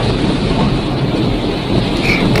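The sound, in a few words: heavy rain with wind and thunder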